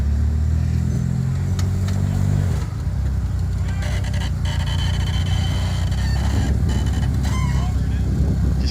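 A rock crawler car engine revs loudly while the vehicle climbs steep rocks at a rock crawling competition, with sustained throaty rumbling and fluctuating revs, and a crowd and voices audible underneath.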